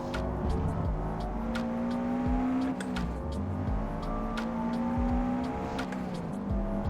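A stock Subaru WRX is pushed hard around the Nurburgring, its engine droning loudly from inside the car as revs climb and fall through gear changes, with brief tyre scrubbing in the corners.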